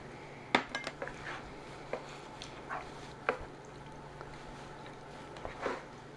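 Spices and water are stirred together in a bowl for an Italian beef and potato casserole, faint clinks and scrapes of a utensil against the dish in sparse bursts, fairly quiet and without speech.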